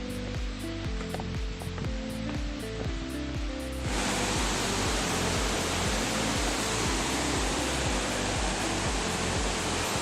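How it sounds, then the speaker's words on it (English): Elephant Falls, a waterfall in Shillong, roars as a dense, steady rush of falling water, loud and continuous, swelling fuller partway through, with a regular low thumping running underneath. "here you can see that is the main falls"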